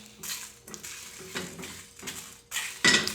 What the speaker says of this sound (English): we're just toasting those, so just give it a little stir